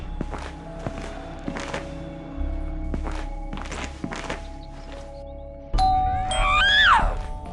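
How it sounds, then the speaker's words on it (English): A doorbell in the SchoolBoy Runaway video game chimes once near the end with a rising electronic tone, preceded by a run of soft thudding footsteps. "17th doorbell now."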